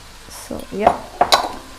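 A spiced curry base of fresh ginger garlic paste, coriander-cumin powder, garam masala and salt is stirred and fried in a pan, with a few short scraping strokes and utensil clinks over a soft sizzle.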